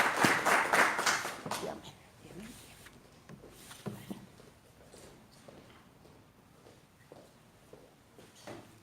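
Congregation at a Bible study clapping, a brief burst of applause at the start that fades within two seconds, followed by scattered soft thumps and quiet room noise.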